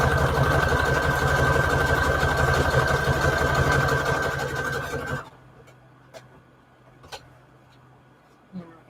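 Sewing machine stitching a Christmas junk journal embellishment with red thread, running steadily for about five seconds before stopping, followed by a few faint clicks and taps.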